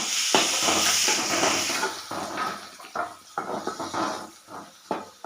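Chopped onion dropped into hot oil with mustard seeds and cumin for egg bhurji, a loud sizzling hiss that flares and settles, broken by stirring scrapes and bursts of crackle, close up.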